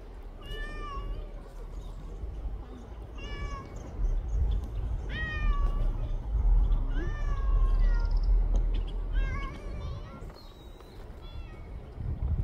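Several cats meow again and again, short rising cries overlapping at close range, while low rumbling noise runs underneath.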